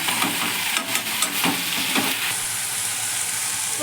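Ponnanganni spinach stir-fried in a pan, a continuous close sizzle punctuated by a few sharp stirring scrapes in the first half before settling into an even hiss.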